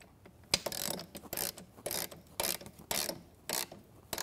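Bolt being tightened on a wooden-post bracket during Konnector assembly, a series of short ratcheting bursts in irregular rhythm, close and moderately loud, with small clicks and rubs between the strokes.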